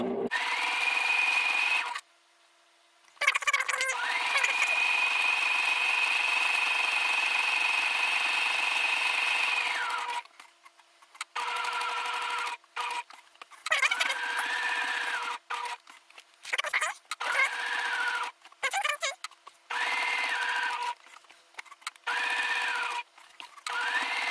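Sewing machine stitching fabric applique, a steady close whirring hum in bursts of several seconds, stopping and restarting repeatedly with short quiet gaps between runs.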